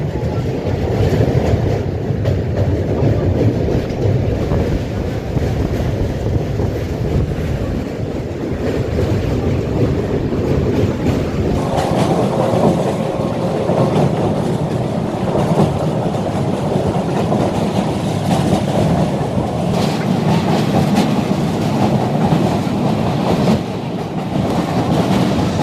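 The 12074 Janshatabdi Express, running from Kolkata to Puri, crosses the Kolaghat rail bridge over a monsoon-swollen river with a loud, steady rumble and rhythmic wheel clatter that continues throughout.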